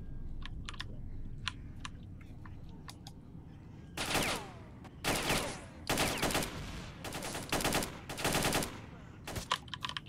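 Bursts of automatic gunfire with armor-piercing rounds in S.T.A.L.K.E.R., several sharp rapid volleys in quick succession, with lighter clicking and tapping between them.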